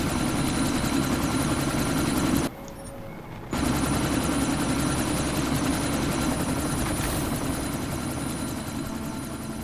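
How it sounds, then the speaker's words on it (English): A helicopter lifts off in the video game Deus Ex: Mankind Divided, its loud, steady rotor and engine drone filling the scene, broken only by a brief near-silent dropout about a second long early on. "That chopper's about to take off!"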